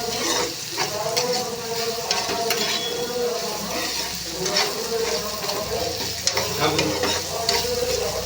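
Ivy gourd (donda) fry being stirred in a pan, a steady close sizzle with repeated scraping strokes of the spatula running throughout, no voices over it.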